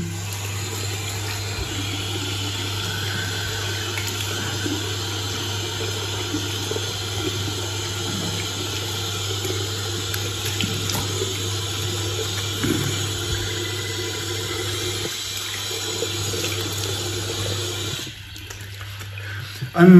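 Tap water runs steadily into a bathroom sink while a face is rinsed after a wet shave, a continuous close hiss over a low hum that cuts off near the end.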